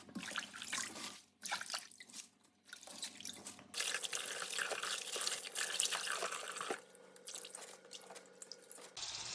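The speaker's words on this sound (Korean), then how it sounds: "충분한 찬물에다가 얘를 담궈서 흙이 약간 부를 때까지 살짝만 두셨다가 이렇게 살살살살 흔들어서 흙이 완전히 떨어질 때까지 씻어주시면 돼요" Spinach is washed in cold water, with close sloshing and dripping as the leaves are shaken, in uneven bursts with short quiet gaps between them.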